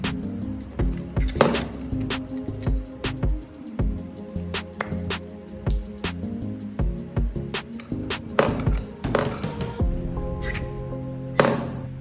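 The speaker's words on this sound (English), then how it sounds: "Cut decisively, but carefully. The plastic is quite brittle, too much force and it will crack." A brittle plastic tube held in a vise is cut with decisive strokes, producing a dense run of sharp cracking and scraping impacts close to the microphone, with no one talking.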